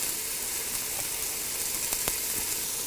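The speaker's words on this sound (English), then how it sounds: "See, that's totally raw, but we're trying to get that sear." Beef cubes of about one to one and a half inches searing in a pressure cooker, giving a steady, moderate sizzle with a few sharp pops and crackles.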